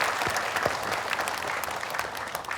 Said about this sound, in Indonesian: Tepuk tangan ibu-ibu semuanya.